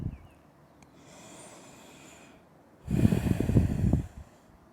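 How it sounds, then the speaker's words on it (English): One full breath during a Pilates stretch, a faint slow nasal inhale followed after a pause by a louder, rougher exhale through the nose, close and alone without talk. "Taking one more full breath here."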